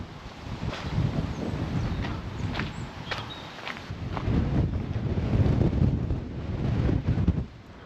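Strong wind buffets the microphone on a high hilltop above the Rhine, a steady close roar that swells toward the end, with a few faint footsteps or knocks scattered through it.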